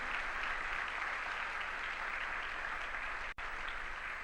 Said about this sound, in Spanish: ¿Cuántos le dan un fuerte aplauso al Señor Jesucristo?